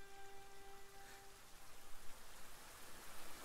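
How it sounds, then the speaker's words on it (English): Rain falls in the video game Bramble: The Mountain King, a soft, even hiss that stays faint and continuous, with a brief low tone fading early on. "seeing this rain is making me more cold."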